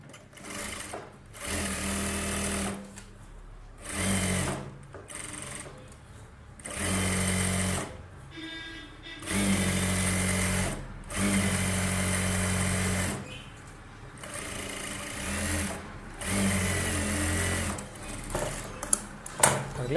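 A sewing machine stitches a blouse sleeve lining in repeated bursts of fast, close mechanical whirring separated by short pauses, with no talking.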